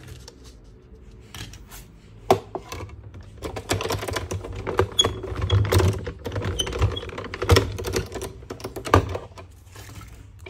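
A daisy-shaped die cutter punches shapes from yellow paper for a sunflower notebook craft, giving a string of close, irregular clicks, taps and crisp snips with soft rustling between, with no voices.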